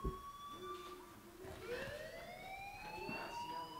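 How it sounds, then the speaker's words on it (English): A fire alarm rings in the video game Life Is Strange, a sustained, faint electronic wail with tones that rise and hold, steady throughout and heard without any talk. "do you hear that fire alarm? That means you should be outside."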